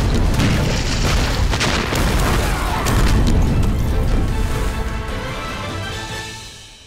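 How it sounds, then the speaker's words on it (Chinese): A massive explosion in a wartime landmine battle scene, a loud deep booming blast with rumbling debris that rolls on for several seconds before slowly fading away. "行村发生那么大的爆炸声，你没有听到？"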